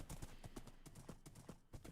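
Horse hooves clip-clop in Minecraft, a quick regular series of light hollow knocks at moderate distance, steady in rhythm across the stretch with no voices over them.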